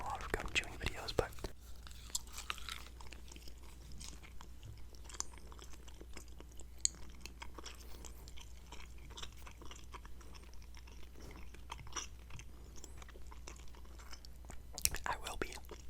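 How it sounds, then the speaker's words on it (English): Soft, wet chewing of gum right up close to the microphone, a steady run of small smacks and clicks that goes on throughout, with faint whispery breaths between them. "We have gum chewing, which you guys know I always have gum on deck."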